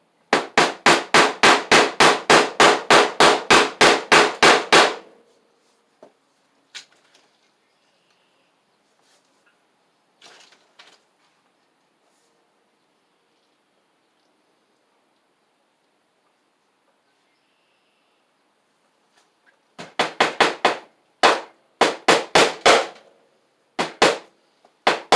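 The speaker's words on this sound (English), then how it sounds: "Kind of hard to staple on plywood that's bouncy" A staple gun fastens electrical wiring for a cellar lighting circuit onto bouncy plywood, firing in a rapid burst of sharp clacks at the start, then a long quiet gap with a few faint knocks, then more quick clusters of staples near the end.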